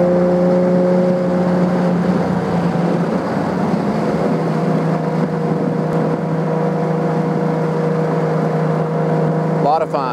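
A 1972 Triumph TR6 with overdrive and performance upgrades drives through turns, its engine droning loud and steady with shifting pitch as it works the bends, wind noise continuous around it.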